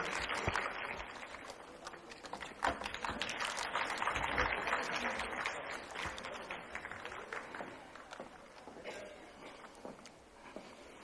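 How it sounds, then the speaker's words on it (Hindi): An audience at a women's education board annual day function applauds steadily, a broad sustained wash of clapping that swells in the middle and tapers off toward the end, with faint voices underneath. "एक बार फिर से जोरदार तालियों से"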